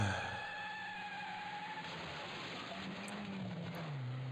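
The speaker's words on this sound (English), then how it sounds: "You hear this driving?" Car engine hum from the Babysitter Bloodbath video game, a steady low drone with a rising tonal whine, continuous and fairly quiet throughout, no talking.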